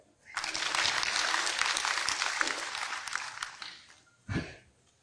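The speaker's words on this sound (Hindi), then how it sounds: "इसलिए ताली बजाओ।" Applause from a poetry recital audience at a kavi sammelan in Patna, a dense burst of clapping that swells, holds for several seconds and fades, followed by a brief louder clap-like thump near the end.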